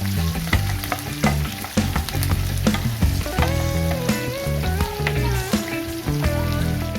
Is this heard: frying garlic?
yes